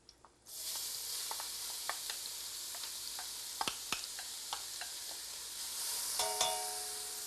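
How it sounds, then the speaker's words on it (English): Onions sauteing in hot butter in a heavy-bottomed pan give a steady sizzle that starts abruptly, with scattered pops and crackles and a few brief clinks near the end. "as you start to cook the onions in the hot butter"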